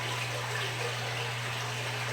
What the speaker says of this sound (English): And now the pump's putting the water back in my tank.